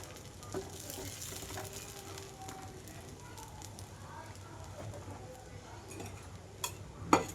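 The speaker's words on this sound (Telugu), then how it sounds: "దోశ పెనం మీద పిండి వేసుకుంటున్నాను" Horse gram dosa batter spread on a hot dosa pan over a low flame gives off a soft, steady sizzle, fairly faint, with a few light clicks and taps near the end.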